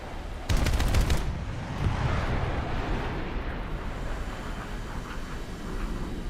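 Rapid burst of 23mm aircraft cannon fire in the War Thunder jet combat game, a loud chattering volley lasting under a second, then continuing roar of engine and battle noise.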